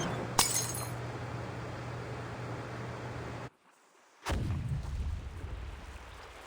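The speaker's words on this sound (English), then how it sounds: "Sounds like some kind of explosion near the clinic." An explosion near a clinic in the video game Reverse: 1999 opens with a sharp crack and crash, then ambience drops briefly to silence before a second burst and rumbling noise return.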